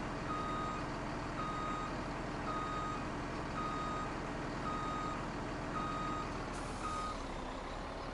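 A truck reversing with trailers in Farming Simulator 17 sounds a regular series of reversing beeps over a steady low engine drone, continuous and fairly loud, with no one talking.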